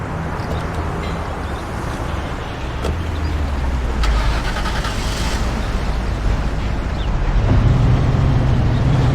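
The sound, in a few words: car engine in video game Mafia 1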